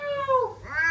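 A child imitates a cat's meow to call street cats, a single close, rising-then-falling mew lasting under a second with no other voices.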